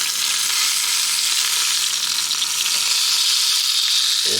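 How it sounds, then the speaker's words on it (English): Sausages frying in a pan sizzle steadily and loudly from close by, with a constant crackling hiss that carries on without pause or voices. "So they've been sizzling away for a while now."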